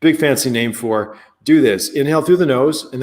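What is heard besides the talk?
No everyday noises stand out.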